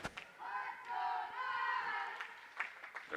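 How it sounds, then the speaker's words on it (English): A youth hockey crowd at a state tournament game cheers for Beloit, giving a sustained collective chant of voices that swells and fades, with a few sharp claps and knocks around it. "The crowd for Beloit getting into it, trying to encourage their young men to get out there and battle and take the lead."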